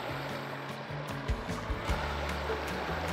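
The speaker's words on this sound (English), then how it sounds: "So we just found a waterfall right here, what we call a spillway down here in South Florida." Water pours steadily over a spillway waterfall in South Florida, a continuous rushing wash close by with no talk over it.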